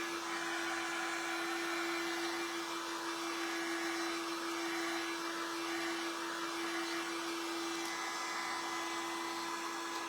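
A hair dryer blows steadily at close range to dry paint on a craft piece, a constant whirring hum with a strong motor whine throughout and no talking.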